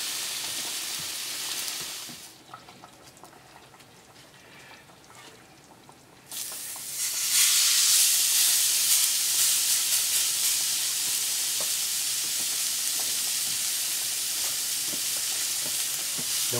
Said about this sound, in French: on va pouvoir dans quelques instants attaquer la cuisson de la viande